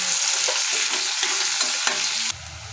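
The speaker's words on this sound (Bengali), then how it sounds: "হালকা মতো একটু লবণ দিয়ে দিই, যাতে পেঁয়াজটা তাড়াতাড়ি করে ভাজা ভাজা হয়ে যায়" Onions sizzle steadily in hot oil with a pinch of salt in a pan, a dense continuous fry with scraping stirs throughout and a louder stir near the end.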